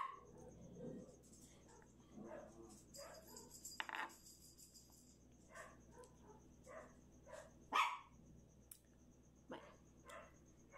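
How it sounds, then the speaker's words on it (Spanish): Dogs barking outside near a home in Mexico, a few scattered barks, some close and some from neighbouring yards further off, over a faint steady hum with quiet clinks and a sharper knock. "Que anda afuera ladrando, pero los demás perros que se oyen son de más allá, son de los vecinos."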